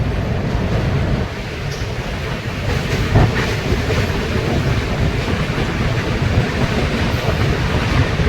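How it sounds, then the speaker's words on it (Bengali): The Brahmaputra Mail train thunders across the Saraighat Bridge over the Brahmaputra River with a heavy, continuous roar and rattling wheel clatter, steady and close throughout, with wind buffeting in the background. "এটা সরাইঘাট ব্রিজ পার করছে ট্রেন এখন।"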